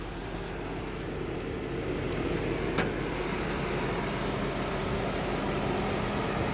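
A 2007 Volvo XC90 V8 idling, heard as a steady low engine hum with a constant broadband rumble and no other distinct noises.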